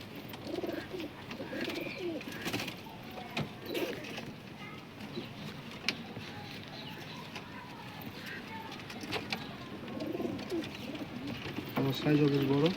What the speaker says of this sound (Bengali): বিগ সাইজের পায়রা আছে